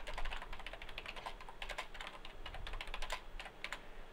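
Typing on a computer keyboard to rename a form in Visual C#, with a steady run of quick, close key taps over about four seconds and no talking.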